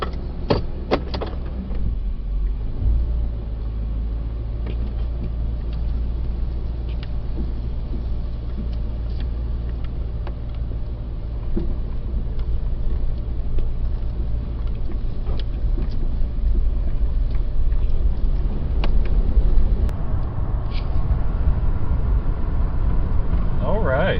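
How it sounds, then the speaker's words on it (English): A 1997 Ford Crown Victoria with a freshly swapped AODE transmission drives along on a test run, its steady low engine and road drone continuous and fairly loud throughout, rising slightly in the second half. "let's finally have a test drive."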